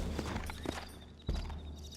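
Horse hooves clip-clop in the video game Red Dead Redemption, several soft, fairly faint hoof strikes spaced unevenly over a low ambient game background.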